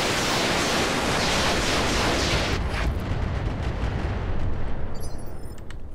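Weapons fire in a video game battle, a loud, dense roar of blasts that fills the clip without pause, easing slightly in its second half, with no voices.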